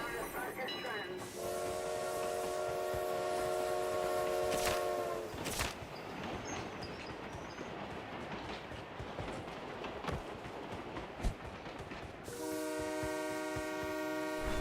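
A train in PUBG Mobile pulls in with a tonal horn blast at the start and again at the end, rumbling wheels and rail clatter in between.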